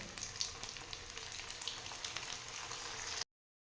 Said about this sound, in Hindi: अब इसके बाद हम इनको 1 बाय 1 कर इनमें फ्राई होने के लिए डालेंगे।